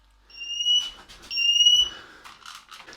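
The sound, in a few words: smoke alarm beeping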